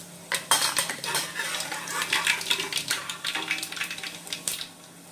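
Mustard and cumin seeds sputter and pop in hot oil, a rapid irregular crackling that keeps going throughout, close and fairly loud.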